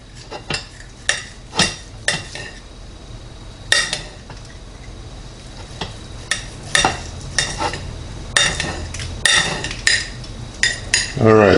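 A knife slicing through smoked, seared filet mignon on a board, a series of sharp, close, rhythmic cutting knocks and scrapes repeating about once a second over a low background hiss.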